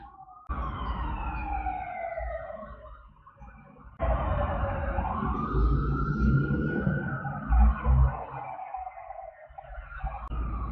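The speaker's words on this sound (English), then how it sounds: "can hear the sirens outside." Wailing emergency sirens rise and fall continuously outdoors in America, with a second siren joining partway through over steady traffic rumble.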